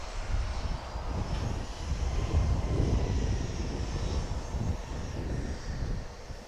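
A Bombardier Global business jet at Dallas Love Field gives off a steady, broad engine rumble, heavy in the low end and swelling slightly near the middle before easing off, with no voices over it.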